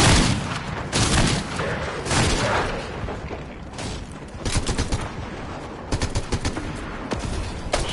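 Rifle gunfire in Fortnite, loud and close, with rapid bursts of shots separated by short pauses and a few heavier booms mixed in.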